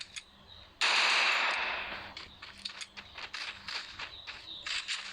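Gunfire bursts in the Free Fire video game, a loud sharp shot followed by rapid lighter shots and clicks, close and crisp, with no talking.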